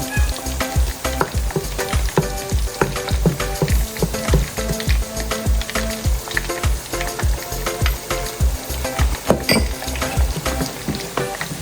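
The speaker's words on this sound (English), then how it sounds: "So the tomatoes are cooking." Tomatoes cooking in a pot for Haitian chicken fricassee, a busy continuous sizzle and bubbling with rhythmic clattering stirs, close and fairly loud, no talking.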